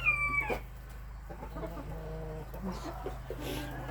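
A rooster of the colourful Birkiv chicken breed gives a short crowing call at the start, followed by softer clucking from nearby fowl over a steady low background hum.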